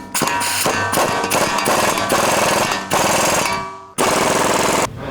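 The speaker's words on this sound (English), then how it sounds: "put the nuts on, and then go ahead and tighten those down. There's a 22 millimeter socket and wrench for these." Suspension bolt nuts on a 2021 Ford Bronco being run down with a 22 mm socket: loud, harsh rattling bursts, several in a row with brief pauses, close up and without talk.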